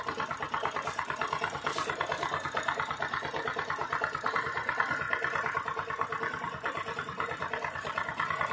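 A 100cc Bajaj Discover motorcycle engine idles steadily up close during carburetor mixture and RPM adjustment, with a continuous, even mechanical chugging that holds at one level and has no talk over it.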